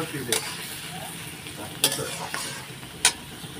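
Onions fry in oil in a pan with a continuous close sizzle, broken by a few sharp metallic scrapes and clinks from stirring.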